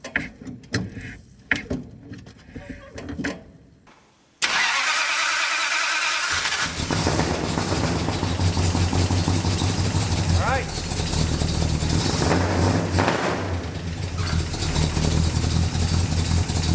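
A 1958 Plymouth barn find, unrun for 30 years, cranks with a few uneven attempts, then fires loudly and settles into a rough, steady idle, close by with voices heard over it.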